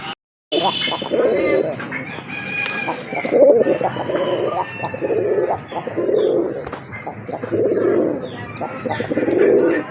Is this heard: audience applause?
no